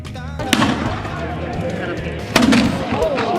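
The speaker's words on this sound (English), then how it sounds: "Many shots were fired back and forth." Gunpowder shots fired in a pirate battle reenactment on a sandy shore, two sharp loud reports about two seconds apart over steady crowd noise and background voices.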